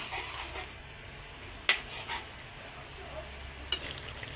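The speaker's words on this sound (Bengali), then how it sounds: "এবার আর 1 মিনিট ফুটিয়ে নামিয়ে দেব।" Bata fish curry with taro simmering in a pan, a soft bubbling hiss with two sharp utensil clinks against the pan and a few light scrapes.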